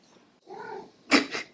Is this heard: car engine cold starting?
no